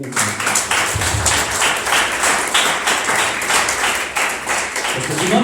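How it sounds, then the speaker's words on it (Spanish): Church congregation applauding during a Spanish-language service, a loud, dense wash of clapping that holds steady for several seconds, with faint voices beneath. "Denle un fuerte aplauso al Señor mismo."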